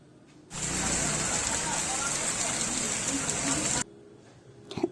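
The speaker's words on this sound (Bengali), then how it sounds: "প্রচুর জোরে বৃষ্টি হচ্ছিল" Sudden downpour of heavy monsoon rain during the rainy season, a loud dense roar of water that swells in abruptly, holds steady for about three seconds, then cuts off, leaving quieter background noise.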